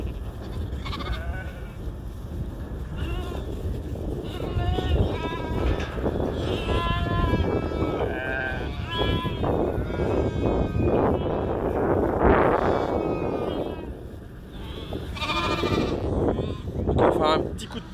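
Ewes and newborn lambs bleat repeatedly and close by outdoors as they are let out to grass, many overlapping cries of varying pitch over a steady rustling background throughout.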